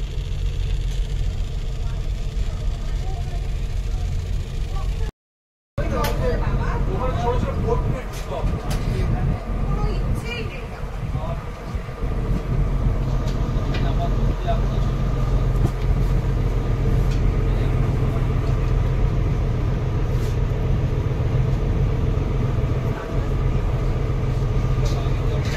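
A luxury boat's engine runs steadily inside the pilot's cabin, a constant low drone that continues through the whole stretch, with people talking nearby.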